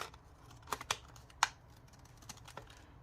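Scissors trim paper during envelope crafting, making a few sharp, quiet snips spread across a few seconds with no talk.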